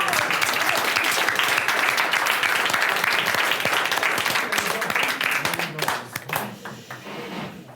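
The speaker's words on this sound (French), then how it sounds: "On l'applaudit, merci" An audience applauds after a forum-theatre scene about everyday sexism in research, with steady, full applause for about six seconds that thins out at the end. Voices are audible near the close.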